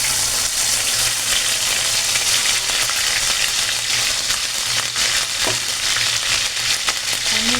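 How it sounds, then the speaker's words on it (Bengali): Onion frying in a pan, a loud, steady close-up sizzle with a bright hiss that runs unbroken throughout, with faint stirring movement and no talk. "এর মধ্যে আমি এখন এই পেঁয়াজটা ঢেলে দিচ্ছি।"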